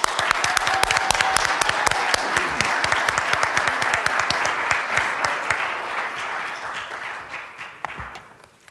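A large audience bursts into sustained applause to welcome speaker Kshama Sawant at a debate event, with dense clapping staying loud for several seconds before gradually thinning and fading out.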